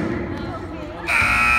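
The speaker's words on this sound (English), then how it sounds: "At the buzzer, ladies and gentlemen." A loud, sustained electronic buzzer blares in a school gym during a varsity-versus-JV basketball game, cutting in sharply over crowd noise and chatter and holding steady to the end.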